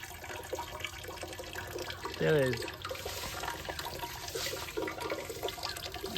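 Water flowing and gurgling out of a homemade cigarette-smoking apparatus, a continuous close splashing trickle with a brief bubbling burst, heard with voices nearby.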